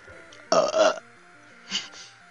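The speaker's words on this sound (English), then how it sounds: "Very forced burp, but okay." Two short burps in a row, the first louder and drawn out and the second smaller and quick, both sounding deliberately forced, close and alone against a steady electronic video game music loop.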